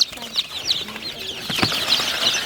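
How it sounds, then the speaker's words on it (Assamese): Soft clucking and chirping of local chickens and chicks, scattered high peeps repeating through a busy farmyard background with no speech. "এই চাওক মুৰ্গী চানা"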